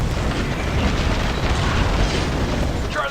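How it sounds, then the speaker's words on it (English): A nuke detonates and destroys a turret in the video game Titanfall, a loud, sustained rumbling blast that fills the moment without pause. "I think a nuke should be able to destroy this now"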